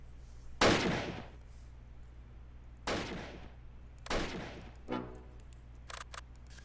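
Gunfire in the World War II tactics game Close Combat, a few sharp separate shots with echoing tails spaced seconds apart, followed by fainter clicks, with no one speaking.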